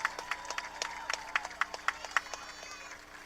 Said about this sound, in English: Please give one more round of applause to your 25-26 Lockhart High School Lionettes and Legacies.